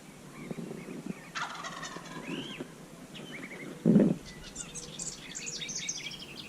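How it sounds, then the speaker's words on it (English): A wild Rio Grande turkey gobbler gobbles once, a short burst in the middle of a spring Kansas field, with chirping songbirds scattered around it and no talk. "Gobbler ends up at the top of the thumb field again."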